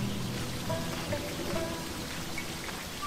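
Steady rain in the video game Sakuna: Of Rice and Ruin, a dense, even patter of drops filling the scene at moderate loudness with no voices.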